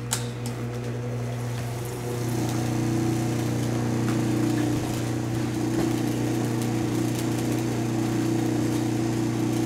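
A lapidary grinding wheel runs steadily while a cabochon is shaped, giving a continuous motor hum with a strong low drone that swells slightly after two seconds, spraying water as it spins.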